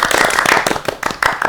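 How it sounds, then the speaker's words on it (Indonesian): Audience clapping in a hall during a campus alumni talk show, a dense burst of applause with a few rhythmic pulses, close and fairly loud, fading slightly then swelling again. "Tepuk tangan buat Unsap dulu dong."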